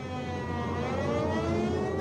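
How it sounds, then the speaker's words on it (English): Air raid warning sirens wail in a steady, loud sustained tone with layered harmonic overtones, rising slightly in intensity, with no voices. "suddenly the warning sirens sound"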